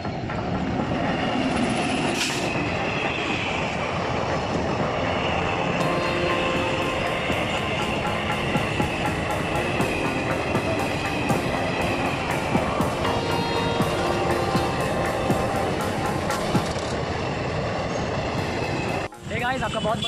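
A train rumbles steadily past a railway level crossing with a lowered barrier, wheels clattering loudly and continuously at close range with occasional squeals.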